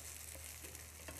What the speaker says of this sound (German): Wenn ich jetzt noch mehr Kartoffelpuffer in der Pfanne braten muss